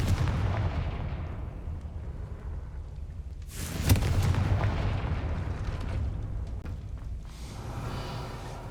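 A Confringo fire spell blasting in Hogwarts Legacy on PS5, with a sharp booming burst midway over a low rumbling game ambience, followed by a crackling fiery tail and another faint blast near the end.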